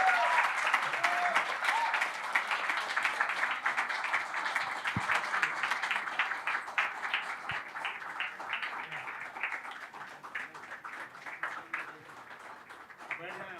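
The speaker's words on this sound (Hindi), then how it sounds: "ज़ोरदार तालियों से इस्तकबाल।" An audience at an All India Mushaira poetry gathering applauds loudly and steadily for over ten seconds, a dense sustained wash of many clapping hands that slowly tapers toward the end.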